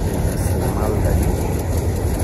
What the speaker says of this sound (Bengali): ট্রেনের কথা বলতে না বলতেই চলে আসছে ট্রেনটা যাচ্ছে